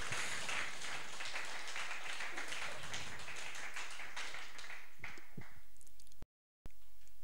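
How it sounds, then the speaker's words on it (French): Applause from an audience at a talk fills the room in a sustained wash of clapping that thins and fades toward the end, followed by a brief cut to silence. "Je suis content que vous applaudissiez"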